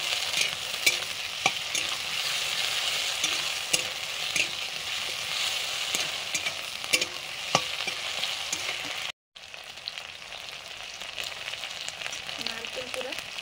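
Paste of ginger, cumin and turmeric hits frying potatoes with a steady, close sizzle and scraping stirs throughout, briefly cut to silence near the end before the frying resumes.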